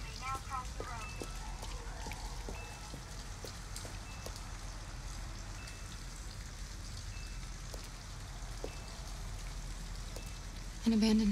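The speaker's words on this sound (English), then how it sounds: "At least we'd be out of the rain." Rain falls steadily in Detroit: Become Human, a soft constant patter with occasional drip ticks and faint distant tones, ending in a brief louder burst.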